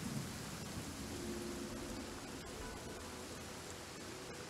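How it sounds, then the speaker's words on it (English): A waterfall in the Genshin Impact video game: a steady, dense rushing roar of falling water that fills the whole clip at an even level, with no voices. "He's meditating while sitting in a waterfall."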